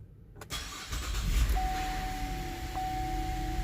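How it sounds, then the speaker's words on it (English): A Buick Enclave, GMC Acadia or Chevrolet Traverse 3.6L V6 cranks briefly and fires up close by. It settles into a steady idle with a faint electronic chime tone. "so let's go start the car."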